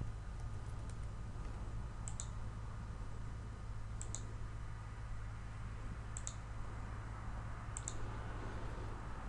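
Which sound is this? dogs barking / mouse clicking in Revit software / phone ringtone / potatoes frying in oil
mouse clicking in Revit software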